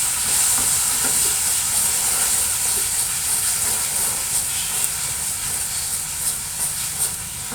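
A tadka of toasted coriander seeds hisses and sizzles loudly as fresh coriander and sauce hit the hot oil, a dense, steady, steamy crackle held close throughout.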